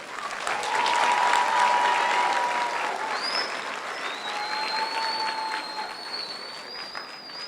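Steady applause from an audience at an 8th grade promotion ceremony, a continuous wash of many hands clapping at moderate volume for several seconds, with faint whistles in the mix.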